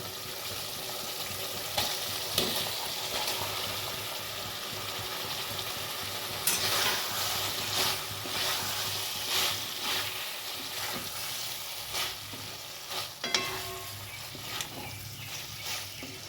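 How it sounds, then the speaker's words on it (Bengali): Cauliflower florets sizzle in a pan of poppy seed paste, a steady low frying hiss punctuated by scattered stirring clinks and scrapes of a spoon against the pan, with no voices. "পোস্তটা একটু কষিয়ে নিয়েছি, এবার দেবো ফুলকপিগুলো।"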